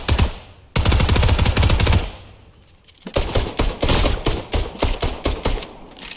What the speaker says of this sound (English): I'm gonna snipe him.